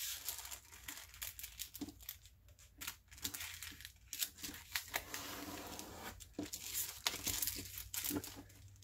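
A sheet of paper is folded and creased repeatedly, giving crisp crinkling and rustling close by, with a voice speaking alongside.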